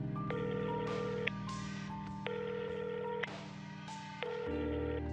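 A phone dials out in a quick series of DTMF keypad tones, followed by repeated ringback tones that pause and restart, heard clearly with no one speaking.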